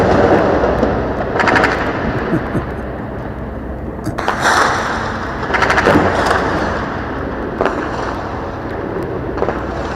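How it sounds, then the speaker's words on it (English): Bursts of rapid automatic gunfire from a sound effect ring out across the stretch, loud and dense, with sharper volleys spiking near the middle and toward the end over a constant rumbling bed. "Should I lower the gun shooting?"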